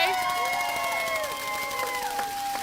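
A crowd applauding and cheering at a WAWA store groundbreaking event in Kentucky: a short, steady burst of claps and whoops, with a few higher whistles or shouts rising above the mass of hands.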